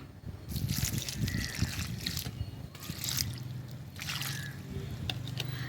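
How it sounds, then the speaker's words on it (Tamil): Water trickles and splashes in short bursts, pouring onto the soil of a potted plant with soft dribbling between pours, fairly quiet and close. "இப்போ நம்ம தண்ணி ஊற்றிடலாம்"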